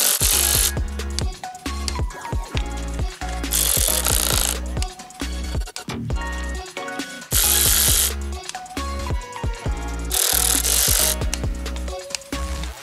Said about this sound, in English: Now let's install this upper guide with the new ZZPerformance guide bolts.